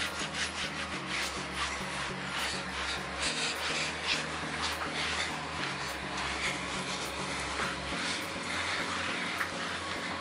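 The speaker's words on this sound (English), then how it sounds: "Get this stuff rubbed in." Protectant being hand-rubbed onto the surfaces of an RV and its tonneau cover, a steady close scrubbing rasp that goes on throughout, with a low hum underneath.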